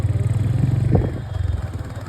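A motorcycle engine chugs close by with a rhythmic putter, briefly revving before settling back to a steady idle-like throb, at an Eruvaka Pournami lemon-throwing contest.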